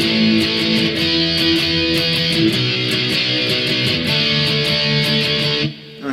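A heavily driven electric guitar plays the chorus chords in steady, repeated down strokes, loud and continuous for about six seconds before cutting off.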